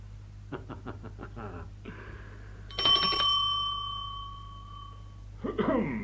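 A bell rung to summon a servant in a radio drama production: a bright, close ring that rings out and lingers, with a few footsteps or knocks just before it and brief voices afterward.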